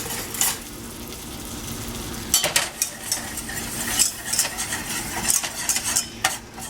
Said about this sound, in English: Get that butter melted down there.